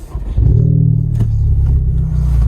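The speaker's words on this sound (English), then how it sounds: "I have no muffler right now" Honda Civic Type R running with no muffler after its exhaust broke off, a loud steady low rumble that swells as the engine revs up, close and continuous with no talking.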